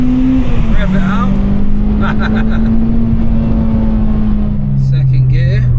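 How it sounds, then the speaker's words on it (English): A 2005 Honda Civic Type R EP3 hatchback is driven with its engine revving, holding a steady sustained drone that dips slightly near the end. Faint voices are audible underneath the engine noise. "Rev it out."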